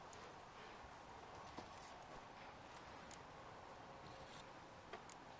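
Video game horse hooves clip-clopping in The Witcher 3, a faint, quick rhythmic patter of galloping hoofbeats under a steady background hiss.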